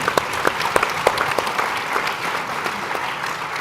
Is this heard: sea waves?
no